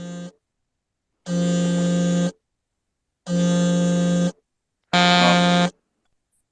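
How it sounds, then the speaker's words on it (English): An electronic alarm buzzes in three loud, harsh, identical bursts of about a second each with short gaps between, after a clipped first burst; a voice briefly speaks at the start. "I think your alarm's going off, bud."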